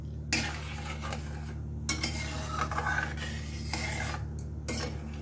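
Milk and sugar for macaroni kheer boiling in a pot under a constant low hum, with a few bursts of stirring, scraping and utensil clatter against the pan, close by and no voices.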